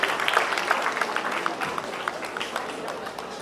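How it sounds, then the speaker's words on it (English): A school fest audience claps for students receiving certificates, moderate scattered applause that gradually thins out. "Give them a round of applause for our St. Michael students"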